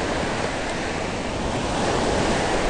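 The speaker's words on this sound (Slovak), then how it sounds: "keďže oceán riadne bije" Heavy ocean surf pounds continuously at a Slovak-speaking woman's outdoor spot, a dense broadband roar of breaking waves with some wind buffeting the microphone, loud and steady throughout with no pauses.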